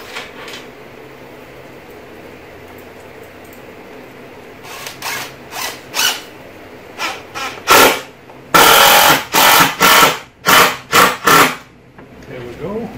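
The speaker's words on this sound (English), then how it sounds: "what I'm going to do is just screw them together" A power drill drives screws to fasten boards together for a scarf joint jig used on boat ribs, chines and stringers. After a quiet stretch, a run of short, close whirring bursts follows with brief pauses between them.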